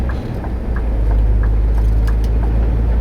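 A 450-horsepower Scania truck drives on the road in eco or standard auto mode, its engine a steady low rumble with constant road and cabin noise and no talking.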